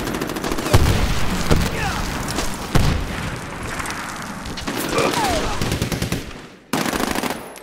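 Medal of Honor Warfighter gunfire rattles almost continuously in loud, close bursts, punctuated by heavy booms and ending in a sudden cut then a fresh burst, with in-game voices underneath.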